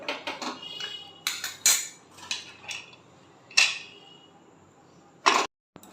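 Washed jackfruit pieces dropped into a metal pot for boiling, a series of sharp clattering knocks and scrapes in irregular bursts, close and fairly loud with quiet gaps between.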